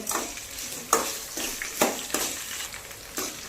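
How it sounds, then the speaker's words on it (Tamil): Onion, green chilli and tamarind sautéing in a pan for a drumstick-leaf thuvaiyal, with a steady close sizzle broken by several sharp spatula scrapes and stirs, no voices. "இப்போ அதை நல்லா வதக்கிக்கலாங்க"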